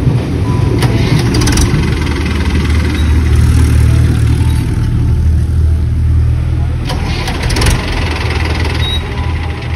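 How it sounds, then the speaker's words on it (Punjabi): A tractor's diesel engine runs after being cranked several times on its self-starter, with battery trouble suspected. It gives a loud, steady, close rumble that holds for the whole stretch, and faint voices are heard now and then. "ਤਿੰਨ ਚਾਰ ਵਾਰ ਸਲਫ ਮਾਰ ਲਈ ਸਟਾਰਟ ਹੋਇਆ ਏ"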